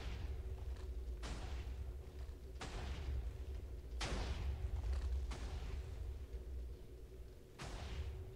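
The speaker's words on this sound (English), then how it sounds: "There are a lot more bombs." Bombs explode in a video game, about six booming blasts at irregular intervals over a constant low rumbling game soundtrack.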